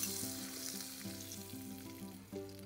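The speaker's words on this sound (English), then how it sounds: "Add the seasoning to the chutney and mix it well." Seasoning goes into a brinjal (eggplant) chutney and is stirred in, with a soft frying hiss, quiet scraping and a steady background hum, no voices.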